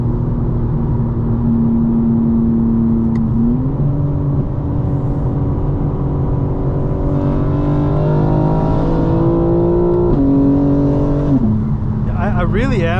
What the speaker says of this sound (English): I really am surprised how fast the rear-wheel drive mode is in this car.